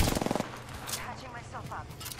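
Rapid automatic rifle fire rattles in a short burst in the Apex Legends battle royale game, followed by scattered in-game sounds and faint talk.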